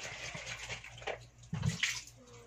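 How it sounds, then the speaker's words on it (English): Tap water runs and splashes softly at a sink while baby bottles are washed, a faint, uneven trickle with small clinks and knocks of handling close by. "Second procedure is wash the bottle with tap water."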